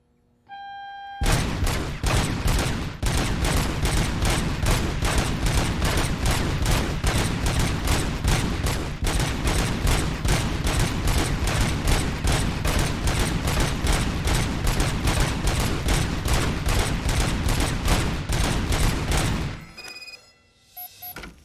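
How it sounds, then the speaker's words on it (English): Unbroken stream of gunfire in a RoboCop video game, evenly spaced rapid shots hammering loudly and steadily for almost twenty seconds before stopping abruptly. "a freaking endless stream of bullets"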